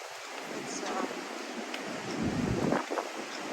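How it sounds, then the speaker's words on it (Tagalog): Wind gusts steadily at a stormy seaside at night, with waves rumbling below it in a continuous, fairly loud outdoor wash that swells toward the end. "It's windy, not cold."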